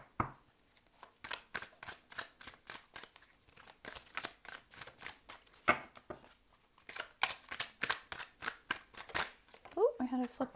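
Tarot cards being shuffled by hand during a pick-a-card love reading, quiet repeated riffling and snapping bursts in a steady rhythm, close and soft, with a brief voice near the end.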